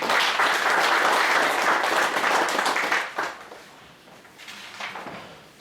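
Indoor audience at the Korea Tennis Association's 2021 general assembly applauds the association president, loud dense clapping for about three seconds, then tapering to scattered claps and fading.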